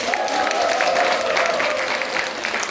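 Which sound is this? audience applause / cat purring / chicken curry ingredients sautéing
audience applause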